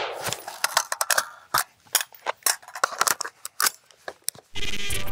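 A handgun being reloaded and handled up close: a quick run of sharp metallic clicks, snaps and clacks of magazine and slide, uneven in rhythm, ending in a steady broadband rush.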